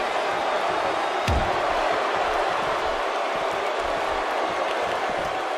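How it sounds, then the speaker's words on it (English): A big, loud Houston arena crowd in the WWE 2K17 video game during a tornado tag match keeps up a constant roar, broken once by a single heavy thud. "This Houston crowd is just like everything in Texas. Big and loud."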